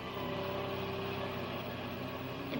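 Engine of a fishing boat out on the water, a steady low throbbing drone with a rhythmic pulse, continuous and fairly loud without talking.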